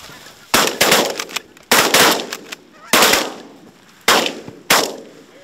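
Five loud gunshots ring out during a hunt in New York, sharp cracks in spaced pairs, each trailing off in a short echoing tail.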